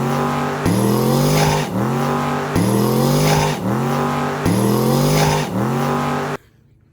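A twin-turbo LS-swapped Mazda RX7 launches hard down a drag strip, its engine screaming loud and close and climbing through several rapid gear changes, each marked by a brief dip before the pitch rises again, then cutting off abruptly.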